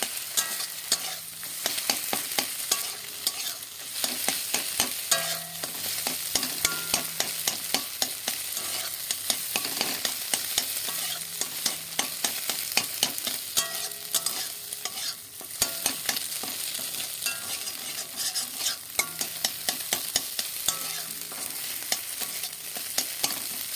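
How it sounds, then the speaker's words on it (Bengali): Rapid, repeated scraping of a spatula in a pan over a constant sizzle as eggs fry and get scrambled into small bits; no voices. "প্রথমে ডিমটা ভেজে নেব এখন ঝুড়ি ঝুড়ি করে ভাজবো"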